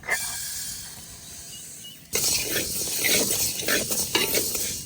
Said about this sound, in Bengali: কড়াই গরম হয়ে গেছে, ডাল দিয়ে দেবো।